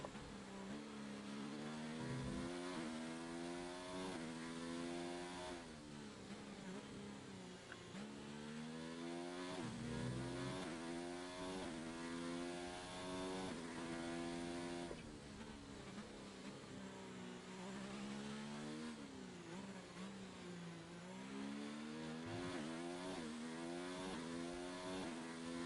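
Race car engine on a hot lap in a console racing game at the French Grand Prix, loud revving that climbs and drops through repeated gear shifts and corners, continuous and close.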